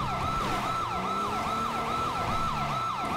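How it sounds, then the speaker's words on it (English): Police siren in a Dept. of Justice cops video game sounds in fast, repeated yelping pulses, loud and close over an engine rumble, cycling rapidly for the whole stretch. "I'm going to give them nice, quick pulses of those sirens."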